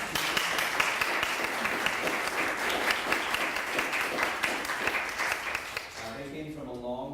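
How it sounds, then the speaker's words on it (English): An audience applauds panelists at the close of a Sacramento panel discussion on the Antelope Valley, a dense steady clapping for several seconds that cuts off abruptly, followed by someone speaking. "If we could give them a round of applause."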